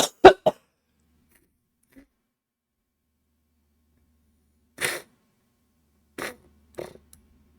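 A person coughs in a few short, sharp bursts near the start, then two or three more isolated coughs follow after a long quiet gap, close and fairly loud with no talking.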